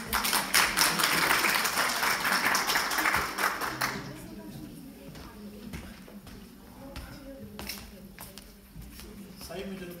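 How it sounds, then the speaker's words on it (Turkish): Applause at an indoor congress ceremony as a director arrives for a plaque presentation, a dense burst of clapping for about four seconds that then thins into scattered claps and room noise under talk. "Geliyorlar diye şimdi alkışlıyoruz."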